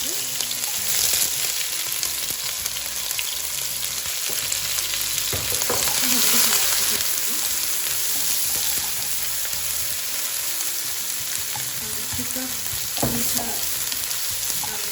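Pounded garlic and chili frying in hot oil for Thai chicken fried rice, a continuous loud sizzle with scattered scraping stir strokes, close and steady throughout.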